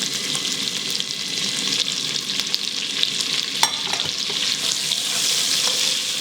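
Diced carrots and celery sizzle steadily in a hot pan as the base for a braised beef short rib bourguignon, a loud, continuous frying hiss with occasional stirring scrapes and no talk.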